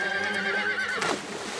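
A spooked horse whinnies loudly and close up, a long shrill neigh that wavers and then breaks into a falling snort, with a few hoof sounds beneath it.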